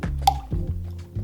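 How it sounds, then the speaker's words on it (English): Vegetable oil poured into muffin batter, a short wet glug and drip with soft squishy splashes, close and alone. "To this, we'll add 60 milliliters of vegetable oil"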